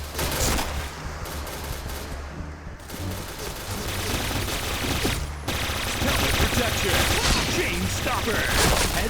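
A Kriss submachine gun in PUBG fires in rapid, loud automatic bursts with brief pauses, and voices talk over the gunfire.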